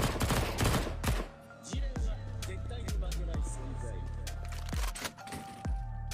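Gunshots in Counter-Strike crack out as a dozen or so sharp, separate reports at irregular intervals, some in quick pairs, close and loud over a low background hum, while a voice talks in between.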